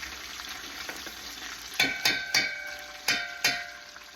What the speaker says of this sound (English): I like to put the tomato sauce into the hot pan to kind of shock the tomato a little bit and give it like a roasty flavor.